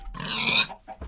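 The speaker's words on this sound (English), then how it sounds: "There's an angry pig at us." An angry pig in the modded video game Minecraft grunts once, a loud, close squeal-like snort lasting about half a second, followed by a short quieter grunt and a brief low thump.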